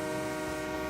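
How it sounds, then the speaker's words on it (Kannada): A train horn sounds in the BGMI battle royale game, a sustained, steady tonal blare held for under a second, fairly loud and with no talk over it. "ಅಲ್ಲಿ ಟ್ರೈನ್ ಬರ್ತೈತೆ ಕೆಳಗಡೆ ಇದೆ"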